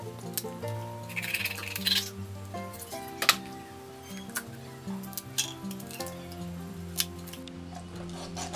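Scissors snip at the remaining bits of fresh fish, soft close cuts in an irregular rhythm over steady background music.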